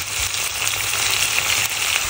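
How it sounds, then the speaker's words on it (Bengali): Mustard greens stir-fry with shrimp, onion and green chili in a hot pan, giving a loud, steady, close sizzle that runs unbroken with no talking. "এখন আমি খুব ভালো করে পেঁয়াজ, কাঁচামরিচ, তারপর চিংড়ি মাছের সাথে ভাজিটাকে খুব ভালো করে মিশিয়ে নিব"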